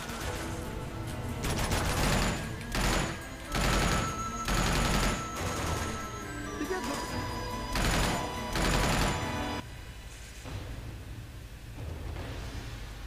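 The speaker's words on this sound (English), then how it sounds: "Shots coming from this way." Sustained gunfire in Uncharted 2: Among Thieves, loud repeated bursts of automatic shots and heavy volleys in a firefight, with short gaps between bursts and a quieter stretch near the end.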